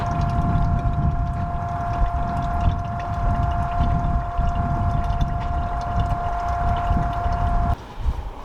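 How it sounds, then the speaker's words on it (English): A two-way hand-operated pump draws used boat engine oil out of a bucket, giving a continuous droning whine with a steady tone, loud and close, that cuts off abruptly near the end. "We're pumping the oil out of this bucket so that we can dispose of this at the recycle center."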